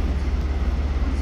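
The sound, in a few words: Russian high-speed train passing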